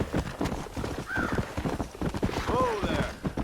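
Horse hooves clip-clop steadily in the Red Dead Redemption video game, a continuous close trotting rhythm with a couple of whinnies from the horse partway through.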